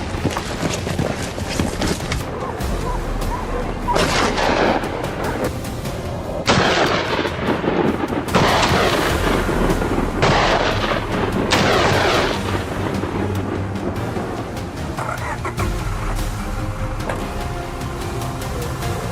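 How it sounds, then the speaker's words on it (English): Rifle gunfire pours out in a dense storm of bullets, loud bursts and booming reports piling up continuously with rumbling echoes underneath, no voices. "His rifle roared, unleashing a storm of bullets into their position."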